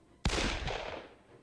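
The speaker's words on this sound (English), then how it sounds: "Gunshot resounded again." A single sharp gunshot in the video game Hakuoki: Kyoto Winds cracks loudly and close, then rings out in a short fading echo.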